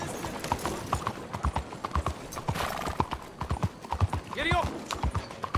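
Horse hooves clip-clop at a steady trotting rhythm in the Red Dead Redemption 2 video game, close and clear, with a whinny near the end and faint voices underneath.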